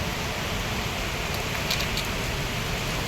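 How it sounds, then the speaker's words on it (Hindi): Heavy storm rain falling steadily, heard from a balcony, a dense constant hiss of downpour at a uniform level with no pauses. "तूफान बारिश।"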